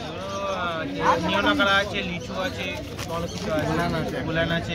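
Parrots and other birds at a crowded pet market, chirping and cooing close by among people talking.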